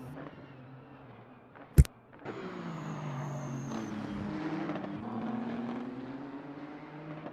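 A Nissan GT-R and an Audi R8 race in a video game, heard as a sharp click and then a steady engine drone that builds and holds. The cars sound fairly distant, with no talk over them.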